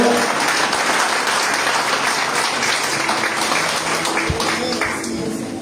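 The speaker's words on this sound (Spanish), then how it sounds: "Den un aplauso al Señor en esta hora." A church congregation claps together in sustained, loud applause, many hands blending into a thick continuous roar that holds steady before easing slightly near the end.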